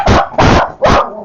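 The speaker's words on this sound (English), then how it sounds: "Be quiet, dogs. Get back in your bed." Dogs bark indoors at a home, three loud, close, sharp barks in quick succession with no talking over them.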